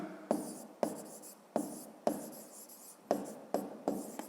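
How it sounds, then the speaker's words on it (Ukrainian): Pen writing by hand on paper during a fifth-grade maths exercise, a run of distinct scratchy strokes about twice a second, close and fairly quiet, with no talk. "Пишемо Донецька."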